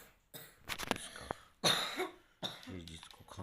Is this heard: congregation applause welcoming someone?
no